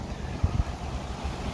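Wind buffeting a microphone on an open hillside slope, a steady low rumble with a few stronger gusts thumping near the start.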